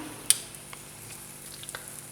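An omelette fries quietly in a pan, a soft steady sizzle with a few faint pops and crackles.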